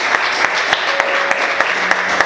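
A church congregation claps together in praise, a steady rhythmic patter of many hands with sharper accented claps, continuous and fairly loud.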